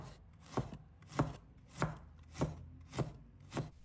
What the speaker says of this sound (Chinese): 1块生姜，把它切成丝。